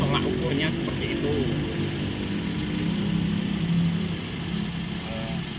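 A used car's engine idles steadily at close range, a low even hum with faint mechanical buzz, while people talk over it.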